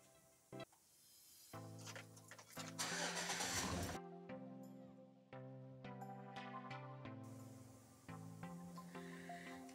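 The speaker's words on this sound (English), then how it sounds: "I'll go ahead and turn on the vehicle so you can see the charge coming in" A vehicle engine cranks and starts to charge a camper battery from the alternator, rising in a loud surge, then settling into a running idle, with a ringing tonal sound over it.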